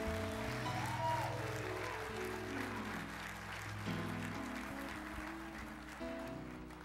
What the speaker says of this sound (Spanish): Si lo crees, denle un aplauso fuerte al Señor.